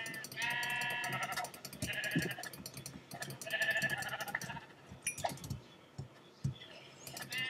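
Sheep in the Minecraft video game bleat repeatedly in close, loud wavering calls, several in a row with short gaps and some clinking sounds between them.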